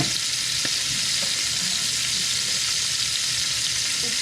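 Salmon fillets frying and crisping in a hot pan give off a steady, dense sizzle that runs close and loud throughout, with faint scrapes and pops underneath and no talking.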